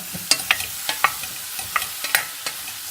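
Onions and mushrooms frying in a pan while a utensil stirs them, giving a soft sizzle broken by a dozen or so sharp scraping clicks at an uneven pace, close and clear with no talking.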